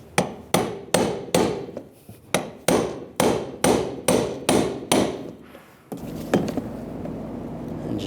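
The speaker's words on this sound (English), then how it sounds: "just using a brass punch, just tap it in place" A brass punch taps a fuel level sensor lock ring into place on a 1999-2006 Chevrolet Silverado fuel tank: about eleven sharp, evenly spaced metallic strikes, close and loud, followed by a brief scrape and steady hiss.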